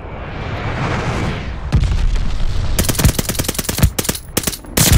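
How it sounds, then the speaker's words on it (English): Strafing-run gunfire in the Call of Duty: Vanguard video game, a roaring aircraft swoop followed by rapid bursts of heavy machine-gun fire and impacts, loud and close, in quick repeated volleys. "Strafing run!"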